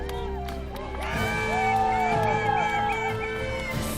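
A group of hikers cheers and whoops at the finish of the Grouse Grind, several voices rising in excited shouts and calls, close and lively.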